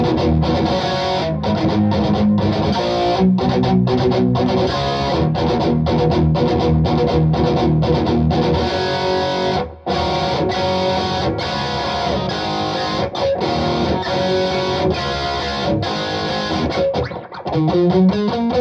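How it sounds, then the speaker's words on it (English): Jake Charvel guitar with a JB pickup played through the distorted channel of a Mesa Badlander 25-watt head with reverb, a dense, sustained riff of crunchy chords and notes running steadily with a brief break near the end, no talking. "We're still in the distorted channel, and we're going to play our Jake Charvel here with the JB"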